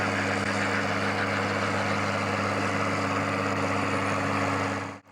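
Massey Ferguson 2720 tractor engine runs at a steady idle, a constant low harmonic drone that holds evenly and then cuts off abruptly at the end.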